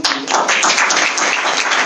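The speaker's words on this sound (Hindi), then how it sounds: "एक जोरदार तालियां" Applause at a business plan presentation for IMC, a steady dense clapping from an audience that fills the short moment at a fairly loud level, with faint voices mixed in.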